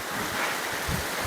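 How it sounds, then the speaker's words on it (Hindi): Strong wind gusting near a waterfall at Ranthi, a loud roaring rush with buffeting gusts against the microphone and the wash of falling water, no speech. "देखिए हवा इतनी भयंकर चल रही है यहाँ पे"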